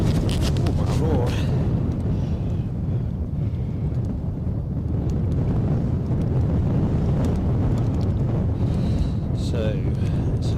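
Wind gusts buffet the microphone at an outdoor live stream in Edinburgh, a constant low rumbling roar with surges throughout and occasional faint chirps and clicks.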